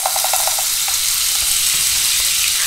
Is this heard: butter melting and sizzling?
yes